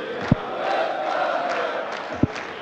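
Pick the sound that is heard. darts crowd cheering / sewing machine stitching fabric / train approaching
darts crowd cheering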